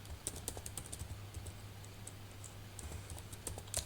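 Steady typing on a computer keyboard while entering Angular routing code, with irregular clicky keystrokes continuing throughout over a low constant hum.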